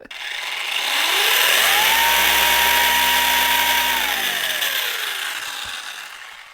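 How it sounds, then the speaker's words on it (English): A brushless motor in a slow RC car spins up to a loud, steady whine with a noisy transmission, holds at high speed for a few seconds, then winds down. "It's a very noisy transmission."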